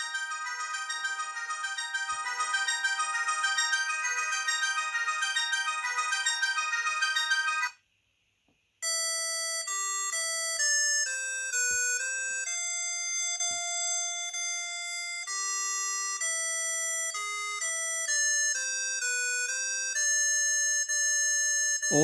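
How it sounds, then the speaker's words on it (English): Ringtones from a COSUN 9958 Chinese mobile phone play one after another: a steady bright melodic tone, a brief gap, then a run of shifting electronic beeping melodies, loud and alone. "Enjoy these ringtones."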